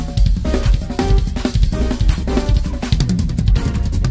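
A dense, fast drum chop on a kit, with rapid strokes and crossovers rolling across drums and cymbals, loud, close and continuous with no talking.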